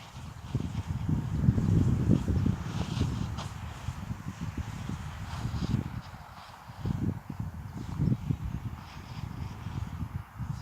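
Gusty wind rushes past a microphone outdoors in a paddock with a mare, a low buffeting roar rising and falling in loud waves with quieter lulls between.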